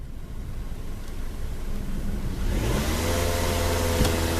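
Car with an FNR5 automatic transmission and a drivability fault idling steadily during a diagnostic test, a continuous close engine drone with a rising hum and slight revving toward the end, with no talk.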